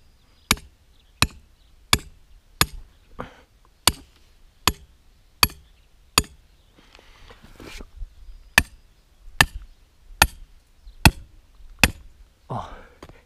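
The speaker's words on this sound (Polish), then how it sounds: "Tu mam taki specjalny młoteczek." Sharp taps from a small special hammer during fence building strike in a steady rhythm, about one every half second to second, close and crisp, with a brief pause of faint rustling midway.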